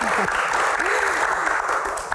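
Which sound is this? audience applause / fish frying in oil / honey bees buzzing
audience applause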